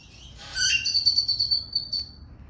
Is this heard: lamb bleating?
no